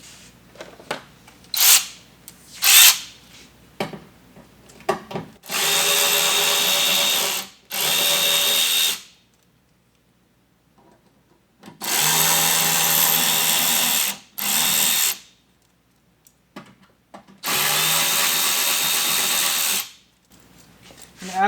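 A power drill unscrews the T15 Torx screws on the fender of a 2023-or-later Chevy Colorado ZR2, running in three steady whirring bursts of a few seconds each. Short clicks and handling noises fall between the bursts.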